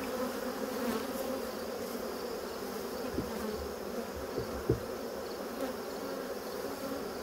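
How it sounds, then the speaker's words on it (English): Many bees crawling all over a beehive box hum in a constant, close drone, with a few soft knocks and bumps from handling the hive partway through. "There's a lot of bees in here."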